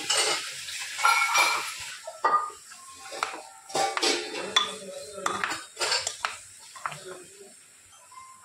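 A spoon clinks and scrapes irregularly against a pot as lentils and jaggery are stirred over a low gas flame, with a faint sizzle underneath.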